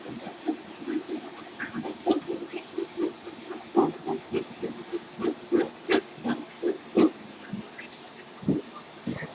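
A toilet's large fill valve refills the tank, giving a loud watery hiss that surges in rhythmic pulses, with a few sharper bursts mixed in.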